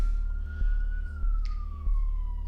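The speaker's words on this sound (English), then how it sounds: "there's a ambulance going by" An ambulance siren drives past in the street, a loud steady wail that slowly drops in pitch as the vehicle goes by, with a regular engine or road thump underneath.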